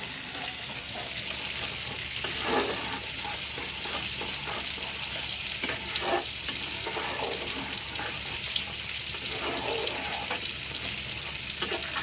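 Potatoes and spices fry in a pan, steady sizzling filling the whole stretch, a continuous hiss with occasional soft stirring scrapes.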